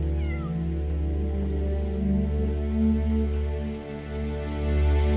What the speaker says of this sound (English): the veterinarians that have done their assessment do believe that most of these cats are going to be adoptable